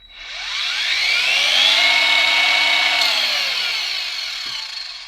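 An Einhell TE-AG 18 Li cordless angle grinder whines up to a loud, high steady spin, holds for a few seconds, then winds down, close to the listener.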